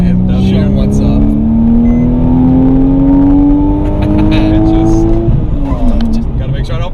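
A Porsche engine revs hard under acceleration, its pitch climbing steadily for about five seconds before easing off, loud and close, with speech mixed in underneath.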